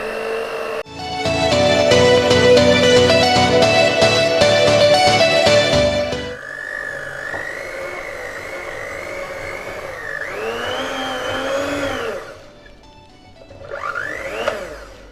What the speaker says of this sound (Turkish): Mikserden geçiriyorum. İlk önce birinci kademeden başlayacağım.